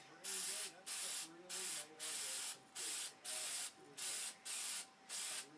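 An aerosol spray paint can hisses in about nine short, even bursts with brief gaps between, close and steady, coating an airplane elevator, with faint murmuring underneath.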